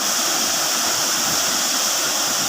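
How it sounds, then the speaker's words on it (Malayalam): A waterfall at Cheeyappara in Idukki, Kerala, roars in a steady, dense broadband rush of falling water, loud and continuous throughout with no voices. "അതിമനോഹരമായ ചീയപ്പാറ വെള്ളച്ചാട്ടമാണ് പ്രഭാത കാഴ്ചയാണ് നിങ്ങളിവിടെ കാണുന്നത്"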